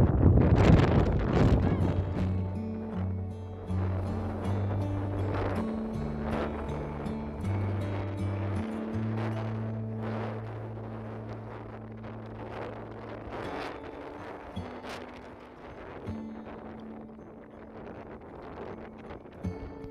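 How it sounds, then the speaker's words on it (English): Steady wind roars and buffets the microphone throughout on an exposed coast-to-coast walking route, with a low droning hum and faint rattling underneath. "As you can see, it's really windy."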